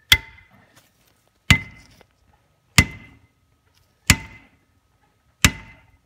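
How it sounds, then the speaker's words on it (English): Five heavy metallic hammer blows, knocking out a bearing during a 2003–2004 Mustang Cobra T56 clutch job, land at a steady, unhurried pace, each a sharp ringing strike that fades before the next. "So go ahead and give it a nice hit."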